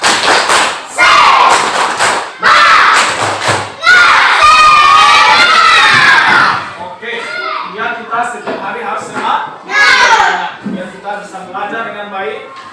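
Schoolchildren in a classroom perform a rhythmic 'tepuk semangat' clapping chant, loud bursts of claps and shouted voices in the first half, then a teacher's voice talks on alone.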